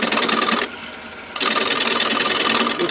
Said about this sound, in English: The 3/8 inch spindle gouge, trying to ride the bevel.